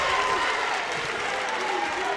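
A crowd at a high school boys basketball game cheers and applauds in a steady, dense roar of clapping and voices that fills the whole stretch.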